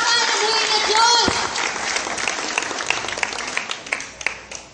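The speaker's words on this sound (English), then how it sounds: "Can we give a clap to the Lord, please?" A church congregation claps, with a voice and a shout over the start, then the applause settles into a thinning patter of separate claps that fades toward the end.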